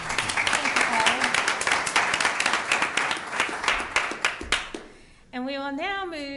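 Audience applause fills a law school panel discussion on race-conscious admissions, dense steady clapping for about five seconds before fading, followed by a speaking voice.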